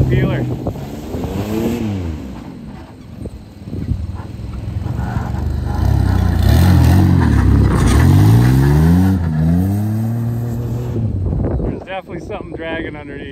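An old Dodge fire truck engine revs hard while spinning a single wheel, rough and uneven, surging and falling in loud drawn-out roars with wind buffeting the microphone. Voices talk over parts of it.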